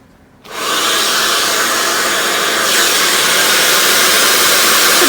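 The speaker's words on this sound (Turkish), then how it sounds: "Böyle dümdüz fönlüyorsunuz, fönlüyorsunuz." A hair dryer switches on and blows continuously at close range while hair is blow-dried straight with a brush, a loud, even rushing hum with a slight shift in tone midway.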